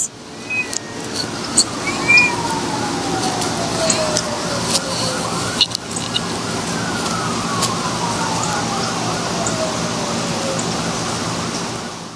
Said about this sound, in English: Y'all hear these sirens?